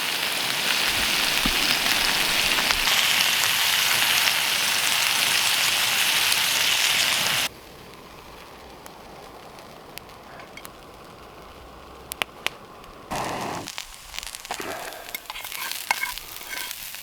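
Steak sizzles in a pan at a winter wilderness campsite: a loud, dense hiss holds for several seconds, then drops abruptly to a much quieter crackle with scattered faint pops.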